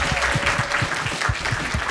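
Audience applause for Emna Achour at a French-language show: brisk, sustained clapping from a crowd, fairly close and even, with thumping accents running through it.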